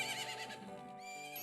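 A horse in Majora's Mask whinnies loudly on its own, a single drawn-out neigh with bright tonal layers that wavers and trails off.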